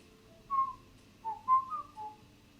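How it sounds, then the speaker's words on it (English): A person whistles a short, soft, melodic phrase, alone and fairly close, along to Cities: Skylines game music, in a few rising and falling notes with brief pauses between them. "You've played City Skylines too much when you start whistling along"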